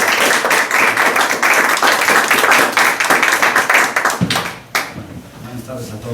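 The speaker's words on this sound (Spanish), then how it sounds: "un aplauso para el profesor" An audience claps for a visiting UNAM professor at a music talk, dense loud applause filling the room for about four seconds before thinning into scattered claps and room noise.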